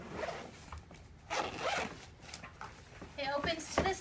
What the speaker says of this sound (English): on the front, there's a zipper pocket that opens up like this